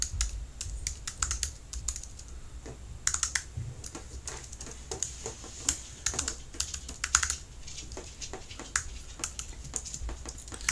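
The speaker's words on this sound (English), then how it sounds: "I like to claim that my keyboard is not very good. That's why I have these typos." Steady typing on a computer keyboard, close and clear, with rapid irregular key clicks and brief pauses running throughout, no talking.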